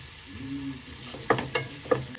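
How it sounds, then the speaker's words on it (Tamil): Chopped tomatoes sizzle quietly in a pan while a utensil stirs, with a few sharp scraping clacks near the end. "அப்புறமா இந்த நறுக்கி வச்சிருந்தோம்ல 2 தக்காளி, இதையும் போட்டு நல்லா வதக்கிக்கணும்"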